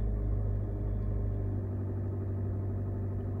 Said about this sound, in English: You can just hear the engine just slightly turning over.